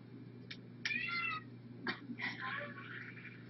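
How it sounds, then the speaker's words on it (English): A musical greeting card plays a recorded cat yowl: several strained, wavering meows in short bursts over a steady electronic hum, close and moderately loud. "somebody stepped on a cat tail."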